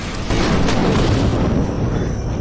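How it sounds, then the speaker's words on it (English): Explosions from the TV series Farscape: a dense, sustained rumbling blast roars loud and continuous from just after the start, broad and booming with no voices over it. "Explosions."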